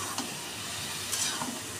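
Green plantain curry stir-fried in a pan gives a continuous close hissing sizzle with a couple of brief scraping stirs, fairly quiet and steady, no voices.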